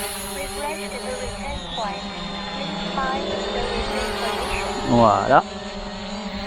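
A Hubsan Zino drone lifting off from a hand, its steady high propeller whine rising and briefly surging near the end, heard close under a man's speech.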